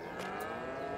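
Cattle on a farm in Farming Simulator 22 give one sustained, fairly loud moo that fills the short moment, with no talking.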